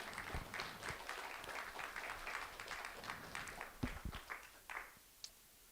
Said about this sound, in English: So how about a round of applause again for Helen?